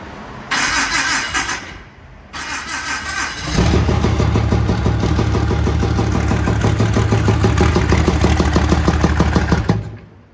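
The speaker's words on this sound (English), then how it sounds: "It's popping out the intake real bad." A roughly 700-horsepower drag truck engine running on a dyno cranks and catches, then roars at steady high load for several seconds with harsh popping out of the intake, loud and close before cutting off.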